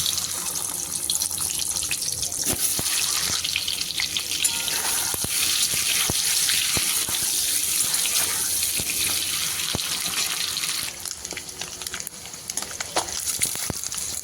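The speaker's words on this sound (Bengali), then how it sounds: "এবারে ডিমগুলো ভেজে নেব।" Eggs fry in a pan for an egg curry, making a loud continuous hiss and sizzle dotted with sharp crackles and pops that eases slightly near the end.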